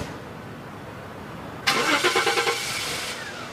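A car engine cranks and catches with a sharp start, then settles into a rhythmic mid-pitched idle for about a second and a half before easing off over a steady background hum.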